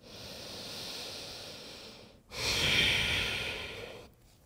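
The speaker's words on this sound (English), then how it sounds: "take a couple nice, long, smooth, deep breaths" Long, smooth, deep breaths during yoga, one slow breathy inhale followed by a louder, fuller exhale, close and airy with no talking.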